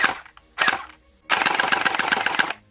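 A custom airsoft MPX gun with a blowback mechanism fires in two short bursts near the start, then a longer rapid string of shots with a rattling, even rhythm, loud and close, with no talking.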